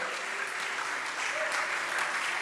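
A large conference audience claps for ranked schools, a faint, distant, continuous wash of applause with talk underneath.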